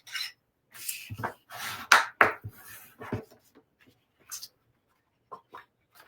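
Bone folder pressed and dragged along the folds of portrait-style paper cards, a series of dry scraping and rubbing strokes with short pauses between passes, close and fairly quiet.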